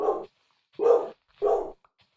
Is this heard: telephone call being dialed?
no